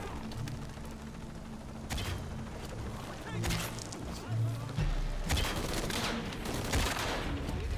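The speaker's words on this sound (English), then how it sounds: "Confirm reports of more gunfire." Gunfire in the video game Shadow of the Tomb Raider: bursts of rapid shots and sharp cracks over a rumbling game soundscape, mixed with crashes and mechanical clanks, with voices speaking underneath.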